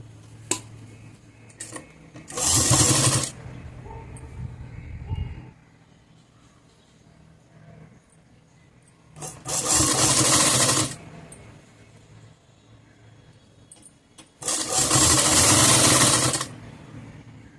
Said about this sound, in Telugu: ఫోల్డ్ చేసేసుకుని కుట్టు వేసుకుందాం